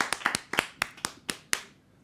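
Sparse, crisp claps from a small audience at a live Irish music show, about nine distinct hand claps in an uneven rhythm, close and fairly quiet, tapering off near the end.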